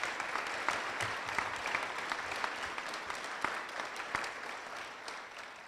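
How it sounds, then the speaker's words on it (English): Fairly faint, sustained applause from a gathered crowd at a city funding announcement for a third river crossing bridge in Kingston, with scattered sharper claps standing out from the wash. "let's have a round of applause for it."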